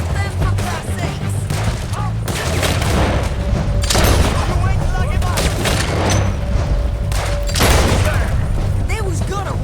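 Loud booms and bursts of gunfire in a Wild West cowboy video game shootout, shots cracking repeatedly over steady rumbling action, with voices talking throughout.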